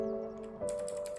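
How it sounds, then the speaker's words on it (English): A Royal Kludge RK71 mechanical keyboard with blue switches is typed on, a few crisp clicky keystrokes close up over a faint steady hum, growing busier toward the end. "The model I bought was equipped with blue switches and it sounds like this."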